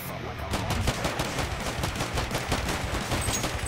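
Rapid automatic gunfire from a video game gun, a continuous stream of close, loud shots in a steady rhythm lasting throughout.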